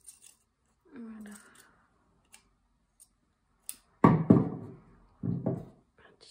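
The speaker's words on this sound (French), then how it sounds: "Un tissu un peu épais, donc les ciseaux ils ont un peu de mal." Scissors snipping through thick fabric in a few separate crunchy cuts, close by, with small clicks between them and a brief voice near the start.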